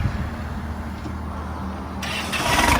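A used Kubota M9540 tractor with a front blade and rear plough starts up, its diesel engine settling into a steady, close rumble that grows slightly louder near the end.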